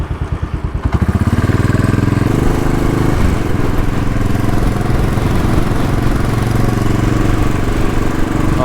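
A Royal Enfield Bullet 500 single-cylinder motorcycle thumps loudly and close while being ridden around Lake Geneva, starting with distinct slow pulses before settling into a steady, dense, rumbling engine drone throughout.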